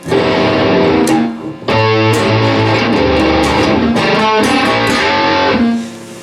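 A loud, distorted electric guitar through a wah pedal set to its middle position plays a dense riff, dipping briefly partway through, then fading out at the end.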